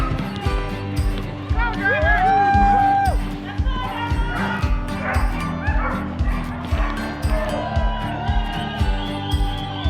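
Sled dogs bark and yip excitedly in a dense, loud chorus at the start of a mini mushers' race, with rhythmic thumps, occasional whimpers and a crowd murmuring behind.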